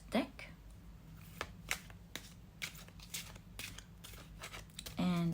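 A deck of tarot cards being shuffled by hand, a run of quick, crisp riffling and tapping bursts close up, with a voice speaking softly underneath.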